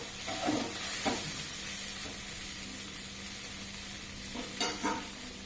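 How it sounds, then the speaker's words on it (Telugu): Two garlic cloves fry in oil in a pan being cooked for bendakaya fry, giving a steady soft sizzle with a few faint stirring scrapes and clinks, fairly quiet and close. "ఇప్పుడు వెల్లుల్లి కూడా ఫ్రై అయిపోయిందండి"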